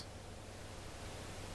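White noise in the video game VEIN, a steady broadband hiss at even level with no breaks, filling the whole moment.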